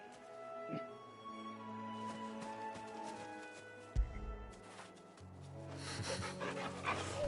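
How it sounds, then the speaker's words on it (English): A dog pants steadily in Final Fantasy 16, quick soft breathy huffs over quiet game music and ambience, with a sudden thump partway through and brighter sounds toward the end; no talking. "You can pet the dog."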